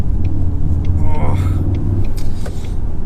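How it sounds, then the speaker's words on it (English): A 2020 Ford Mustang Convertible in Sport Plus mode, its engine giving a deep, steady V8-like rumble from inside the cabin while someone talks over it. "in Sport Plus, you do hit a rumble, and the sound, it really sounds sort of like a V8"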